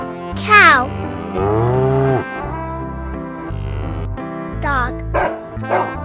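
A cow moos several times, with long tonal calls that rise and fall over a steady low background of music.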